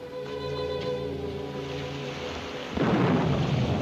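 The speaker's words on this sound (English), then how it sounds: "Little rain squall over by Hazlitt's Rock probably won't come in this far." Thunder rumbles long and loud across a coastal rain squall, then a burst of heavy rain takes over and hisses steadily to the end.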